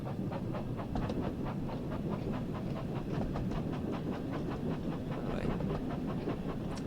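A steam train on the West Somerset Railway in Train Sim World 5 rolls along steadily, with a rhythmic chuffing and clickety-clack over a constant low rumble, close and even throughout.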